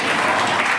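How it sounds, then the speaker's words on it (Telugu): A church congregation at a Sunday worship service claps together in a dense, steady burst of applause. "చప్పట్లు కొట్టండి."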